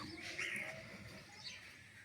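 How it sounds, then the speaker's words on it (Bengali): Faint birds chirp in a few brief, high calls over quiet background noise. "কিছু পাখির শব্দ শুনতেছি পাখি হয়তো এগুলো আপনার টিয়া পাখি হবে"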